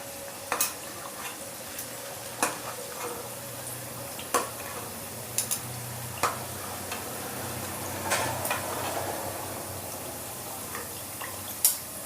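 Thekua sweets deep-frying in hot oil until golden brown, giving a steady, moderate sizzle broken by sharp clicks and taps of a utensil as the pieces are stirred and lifted out.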